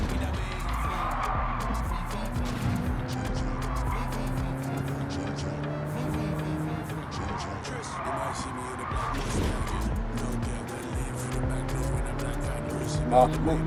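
Honda NSX petrol race car in the Gran Turismo 7 video game, its engine droning steadily with rising and falling harmonics and occasional tire squeal, continuous and close throughout.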